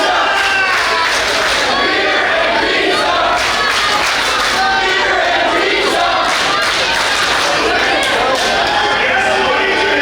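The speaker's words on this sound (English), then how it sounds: "the crowd is chanting beer and pizza" A wrestling crowd at a Central States independent show chants in unison, a loud, dense roar of many voices filling the arena with rhythmic pulses throughout.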